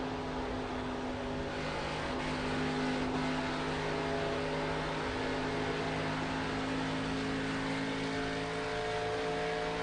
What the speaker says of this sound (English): There's Christopher Wade in the 53 car, now challenging the 3 for that 4th spot